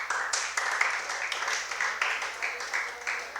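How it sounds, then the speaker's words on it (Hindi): Audience at a sermon and abhishek ceremony in Kunthalgiri claps in honour of the priest, producing rhythmic, fairly even rounds of hand claps that pulse in time, moderately close and without a voice over them. "उनके सम्मान में तालियां बजाओ"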